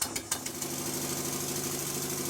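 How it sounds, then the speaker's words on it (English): Stuart No. 4 steam engine running on a bench with late valve admission: a steady mechanical whir and rattle with a few sharp knocks at the start, close and fairly loud, no speech. "The admission is too late, so the engine knocks because there is nothing to cushion the reciprocating parts."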